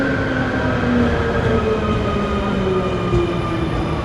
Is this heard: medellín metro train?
yes